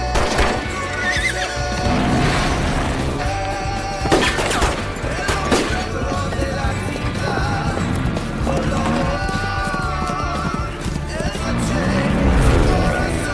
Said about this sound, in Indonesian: Tim yang kasihan kepada Kit, ia lalu membawanya pergi dengan menggunakan seekor kuda